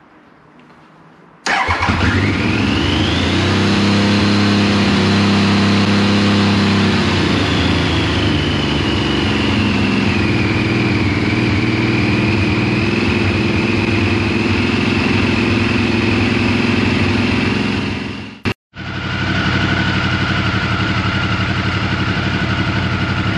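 A 1994 Triumph Sprint 900 motorcycle engine starts with a loud jump and settles into a steady, close idle, rising and dipping slightly in pitch, then cuts out briefly near the end and picks straight back up.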